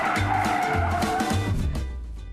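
A modern Polo GTI, driven through a slalom by retired racer Hans-Joachim Stuck, squeals its tires continuously over a steady engine drone, with bursts of skidding that fade toward the end.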